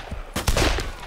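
Rapid bursts of video game gunfire as zombies are shot, several sharp reports in quick succession, close and loud.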